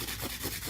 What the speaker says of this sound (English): Hand filing is definitely more efficient than using a drill.